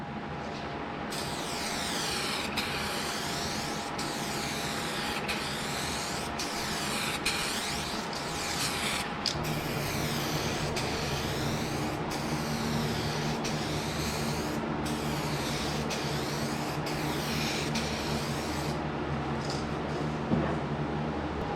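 A spray can applies a third coat of clear finish to a car headlight during restoration, a close, steady hiss broken by short regular pauses between passes, continuing throughout without talk.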